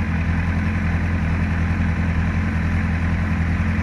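A 2009 Honda CBR1000RR motorcycle engine idles steadily nearby, a constant, even hum with a smooth low drone and no rise or fall in pitch.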